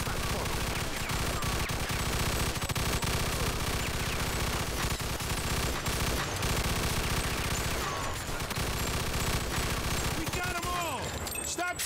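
Sustained gunfire from a Mafia II shootout, dense overlapping bursts of shots rattling continuously at close range, with voices shouting over the constant barrage.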